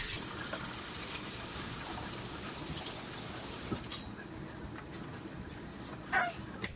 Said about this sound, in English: I'm gonna wash my hands before I forget.